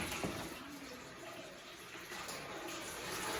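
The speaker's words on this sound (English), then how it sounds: "You can hear the water just pouring in." Steady rushing water fills the clip, a continuous broadband wash of floodwater pouring into a house under renovation nearby, with no pauses.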